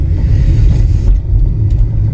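Steady road traffic on the Badrinath Kedarnath highway, a continuous low rumble of cars and engines passing close by, with a brief dip midway before the drone picks up again.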